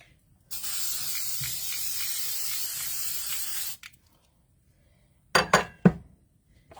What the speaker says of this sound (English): And I have some spray.